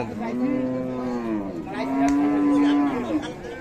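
Calves and Sahiwal cattle at Raniganj cattle market, Dinajpur, moo loudly in two long, drawn-out calls, close by, with no talking.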